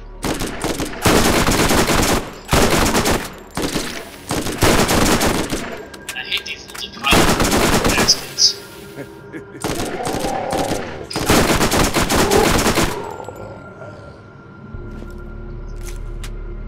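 Rapid bursts of video game gunfire from the zombie level of Borderlands, loud repeated volleys with short pauses between them and a low hum at the end.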